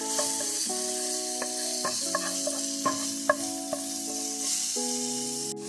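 Spices, including red pepper flakes and ground black pepper, stirred into a hot sizzling pan for a butter bean dish; a steady hiss sits under a loud tonal melody, with occasional soft taps.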